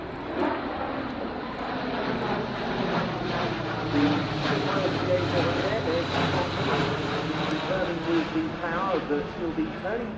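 An Airbus A400M Atlas military airlifter flies a display at the RIAT 2012 airshow, its turboprop drone droning loudly and steadily with shifting propeller tones, while a commentator talks over it throughout.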